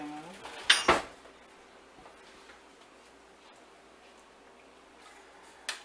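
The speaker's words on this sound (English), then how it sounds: "we're going to stir that until that dissolves" A metal spoon stirs a poison ivy balm mixture in a container, giving a short cluster of bright clinks near the start before the room falls almost silent, with one faint tap at the end.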